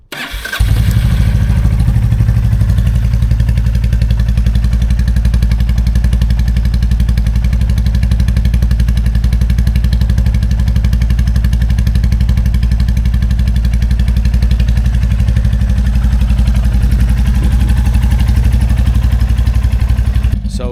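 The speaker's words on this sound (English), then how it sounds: "let's turn on the bike, and now you can hear the exhaust as well" A Royal Enfield Classic 350 motorcycle with a DNA air filter runs steadily close by, a deep rumbling exhaust idling continuously at a constant loud level throughout.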